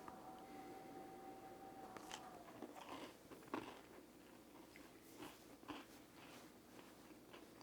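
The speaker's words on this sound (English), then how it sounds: "Now let's take a bite." Bite into a Dutch egg cake (eierkoek) with a golden-brown base, producing a sharp crunchy snap followed by several soft, close chewing crunches; no talking.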